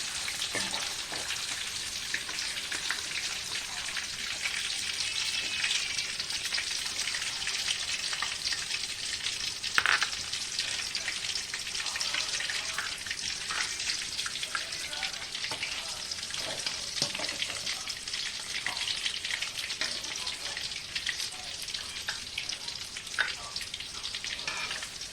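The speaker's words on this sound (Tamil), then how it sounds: "இப்போ நல்லா பொரிச்சாச்சுங்க." Chicken chilli fries in hot oil with a steady dense sizzle and crackle, close and continuous, with an occasional stir or pop and no talking.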